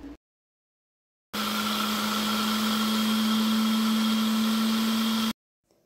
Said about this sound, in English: So I blended garlic and shallot.